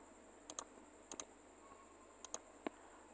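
A computer keyboard taps out a name in a few sparse, close clicks, paired keystrokes separated by pauses over a faint steady whine.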